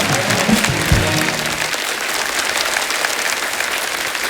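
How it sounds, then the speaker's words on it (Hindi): A television studio audience bursts into loud, dense applause as a guest is welcomed onto the stage. The clapping is sustained and close, with a brief low thump near the start, and no voices over it. "क्या तालियां बज रही"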